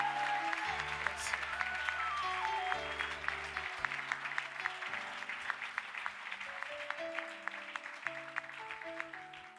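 A church congregation applauds steadily and loudly, with many hands clapping in a dense rhythm over organ or keyboard chords held underneath, and no clear speech.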